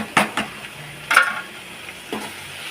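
Tomatoes with coriander, turmeric and curry masala powders sautéing in a pan, heard as a few scattered scrapes and short sizzling stirs over a quiet background, with no talk.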